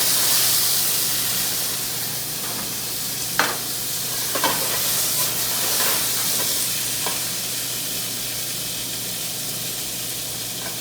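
Roasted red peppers sizzling in hot olive oil in a pan, a steady loud hiss and crackle with a few clinks and stirring scrapes.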